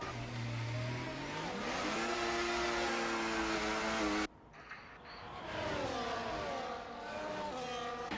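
A race car engine revs hard and climbs through the gears as the driver gets back on the throttle, loud and sustained, briefly cutting out midway before the high whine picks up again, with no talk over it.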